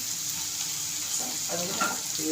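Chopped onion frying in a pan over a full gas flame, a steady close sizzle with faint stirring scrapes toward the end.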